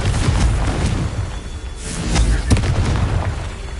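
The Confringo fire spell explodes in Hogwarts Legacy as a loud, deep boom that swells into rumbling blasts and whooshing bursts, with a second heavy impact hitting midway through.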